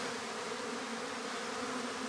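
Honeybees at a hive with a feeder rim hum in a steady, dense buzz, close and continuous with no pause.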